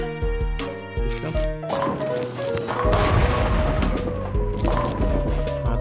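A heavy booming explosion and crashing debris erupt midway in the Plants vs. Zombies bowling mini-game, over a loud layer of tonal music and sharp impacts that continue to rumble afterward.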